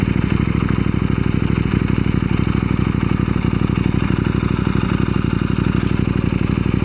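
A KTM 890 SMT motorcycle runs at a steady low rumble, its engine pulsing evenly and close by as it pulls away, with no talking.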